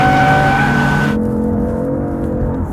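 Loud close engine roar from a 2015 BMW M4 accelerating in second gear on a track, rear tires spinning; a steady high harmonic whine drops away abruptly midway as the pitch shifts, leaving a lower sustained drone.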